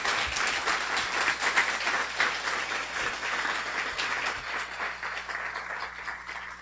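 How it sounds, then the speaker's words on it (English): A roomful of people clap for the families and parents at a Guiding Eyes for the Blind guide-dog graduation, producing loud, sustained, even applause with no speech over it. "get a round of applause for families or parents of the graduates"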